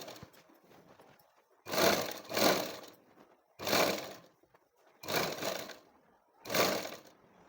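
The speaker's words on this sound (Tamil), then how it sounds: "திரும்பி அதே பக்கமாக 2வது தையல் போட்டுக்கிட்டு வரேன்" A sewing machine stitches a blouse seam in five separate whirring runs of about half a second to a second each, with quiet pauses between them.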